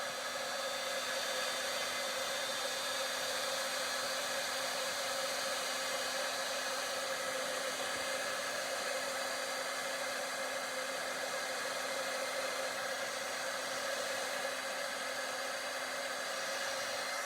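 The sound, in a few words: heat gun running to melt shimmer embossing powder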